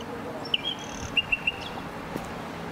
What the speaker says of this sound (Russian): Главное — соловьи.